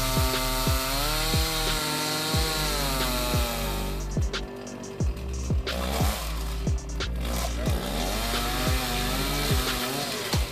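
A chainsaw cuts into a tree, the engine droning and shifting pitch under load with repeated strained rasping pulses from the chain in the wood, loud and close throughout with no speech.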